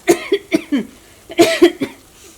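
Repeated coughing set off by pungent masala fumes while cooking a tangy fish curry with kudampuli: a close, loud cluster of four sharp coughs, a short pause, then three more.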